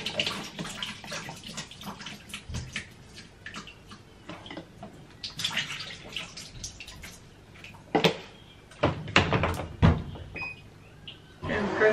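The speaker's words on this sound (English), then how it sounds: "So from there, we're putting in the water in." An RCA portable washing machine takes in water, with splashing and trickling running alongside plastic clicks and knocks of the lid and controls, several sharper bumps near the end.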